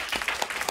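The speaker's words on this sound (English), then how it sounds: "first applause for the three very eloquent speakers here." Audience at a panel discussion on environmental law reform in China applauds the speakers, a brief patch of scattered claps, fairly faint.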